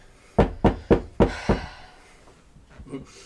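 Five firm knocks rap at a front door in a quick, even rhythm, loud and close, followed by a few fainter taps and a brief murmur of voices.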